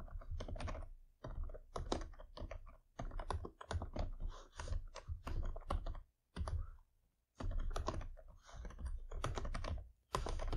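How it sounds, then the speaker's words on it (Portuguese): Steady, close computer keyboard typing while entering JavaScript code in a browser console, quick clustered keystrokes in bursts separated by short pauses, with no talking. "eu vou digitar aqui, ó, console.log"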